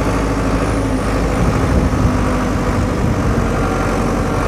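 Agrale-Deutz 4.110 Turbo tractor engine running close and loud in Toledo, Paraná, a steady low diesel rumble with a slight rise in the middle, heard alone without talk.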